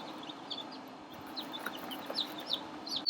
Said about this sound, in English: Just look at all those chicks.